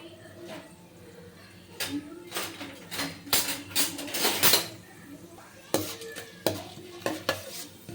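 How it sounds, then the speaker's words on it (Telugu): Chana dal, urad dal and cumin fry in heated oil with a soft sizzle, while a metal spoon clinks and scrapes against the pan in quick irregular bursts. "ఆయిల్ వేడెక్కాక శనగపప్పు, మినప్పప్పు, జీలకర్ర వేసి వేయించుకోవాలి కొద్దిసేపు."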